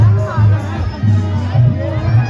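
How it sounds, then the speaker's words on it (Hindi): Large crowd at a Kali Puja pandal in Varanasi, a loud continuous hubbub of many voices with scattered louder calls and bursts, close and filling the whole scene. "ये भीड़ देख रहे हैं, भीड़ काफी जबरदस्त है"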